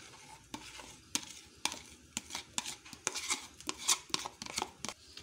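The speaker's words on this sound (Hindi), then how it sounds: "अच्छे से इसको मिक्स करते हैं।" Beaten cream being folded into a choco bar ice cream mixture in a bowl, giving a run of close scraping and clinking stir strokes in an uneven rhythm with no talking.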